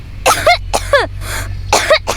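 Deep, throaty coughing performed by a narrator in a Gujarati audiobook: three or four rough, voiced bursts with short gaps, close and fairly loud over a low steady hum.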